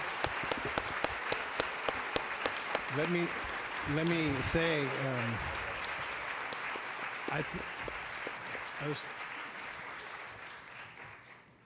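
An audience at an institute address breaks into sustained applause, dense clapping that swells and slowly fades as someone speaks over it.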